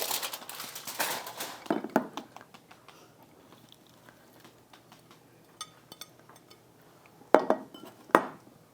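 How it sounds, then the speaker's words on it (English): A utensil scrapes and clanks against a pan while chicken sausage, broccoli, vegetables and fresh herbs are stirred, with a burst of clatter at the start and two sharp knocks near the end, close and with no talk. "come on over and give it a stir"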